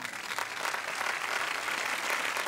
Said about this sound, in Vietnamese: mời quý vị cho một tràng pháo tay thêm nữa